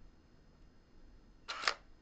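A Canon EOS 1D Mark III firing its shutter, the mirror flipping up in one sharp mechanical clack followed by a quick second snap, close and clear after near silence.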